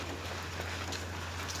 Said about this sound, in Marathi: सगळीकडे पावसाला सुरुवात झालेली आहे